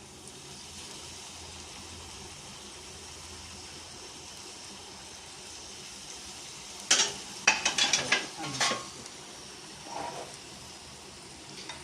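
Pappadam, soaked in water first, is dropped into hot oil, where it bursts into a cluster of loud, sharp crackling sizzles after a stretch of quiet background hiss, then fades to a softer bubbling.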